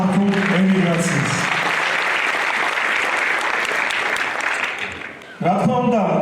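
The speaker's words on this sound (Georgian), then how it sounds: "ტაში და აპლოდისმენტები ქართულ ემიგრაციას" Audience clapping at a Georgian folk and choreography festival swells into a dense, steady wave of applause across the middle of the clip, with music playing before it and returning at the end.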